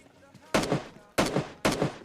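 Three loud bursts of gunfire in PUBG Mobile Lite, each a short rapid volley, separated by brief gaps with quieter game noise between.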